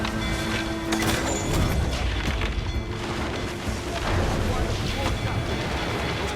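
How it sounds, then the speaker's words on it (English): Booming ship cannon blasts and crashing impacts in Assassin's Creed IV Black Flag roll over a dense, loud naval battle din, with several heavy bursts in quick succession. "Those cannons have a long reach."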